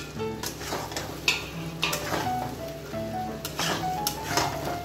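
Potatoes tossed into frying masala sizzle in a pan with crackling spatter and clinking, scraping stirs against the metal, close and steady throughout, with no voices.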